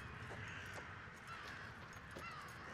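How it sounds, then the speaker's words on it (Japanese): Crows caw in the vampire-infested open-world shooter Redfall, giving a few faint, hoarse calls under a steady bed of quiet game ambience. "カラスが死体でもあんのか"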